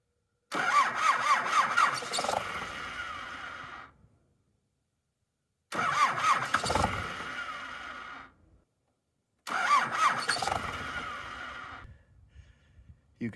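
An old tractor, a mud-caked round-bale loader left sitting for 25 years, cranking over three times in long grinding bursts separated by silence, close and loud.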